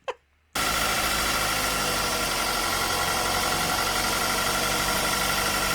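A car engine cranks briefly, catches and settles into a steady, loud idle that runs unbroken to the end, with a faint knocking rattle in the low end.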